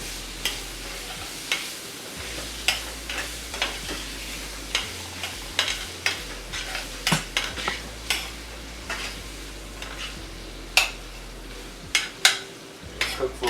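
A vegetable and quinoa stir fry with king oyster mushrooms and freshly added mango cooks in a pan, with a steady low sizzle under repeated close scrapes and clinks of a utensil stirring, no talking.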